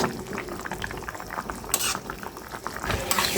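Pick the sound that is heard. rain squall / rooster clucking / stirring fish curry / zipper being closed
stirring fish curry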